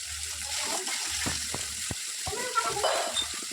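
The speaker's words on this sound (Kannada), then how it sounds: "ಒಂದು ಟೊಮೊಟೊ ಹಾಕ್ಕೊಳ್ಳೋಣ ಸ್ವಲ್ಪ ಫ್ರೈ ಮಾಡಬೇಕ್ರಿ" Chopped sour tomato dropped into a hot pan for upma with field beans and chickpeas, giving a steady close sizzle broken by a few sharp clinks of a utensil against the pan.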